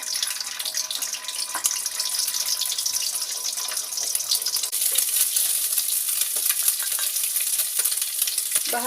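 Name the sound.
egg frying in hot oil in a pan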